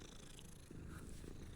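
A cat purring steadily in Hogwarts Legacy, a low continuous rumble that stays close and even across the short stretch with no talk over it.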